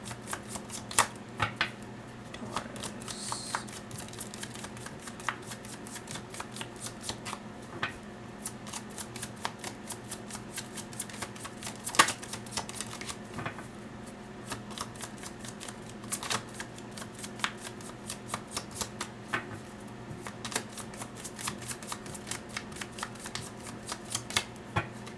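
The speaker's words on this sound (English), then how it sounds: "One more shuffle" Tarot cards are shuffled close up in repeated rapid riffling bursts separated by short pauses, a crisp papery flutter continuing steadily throughout with no talking.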